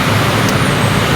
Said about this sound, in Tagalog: Traffic sa Islex.